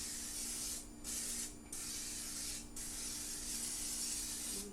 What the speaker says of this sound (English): And I'm going to spray it first.